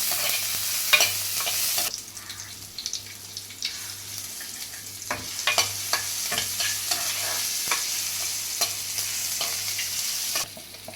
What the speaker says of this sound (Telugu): కొద్దిగా కలిపి పెట్టుకున్న అల్లం, కొంచెం టమాటో వేసి వేయించుకోవాలి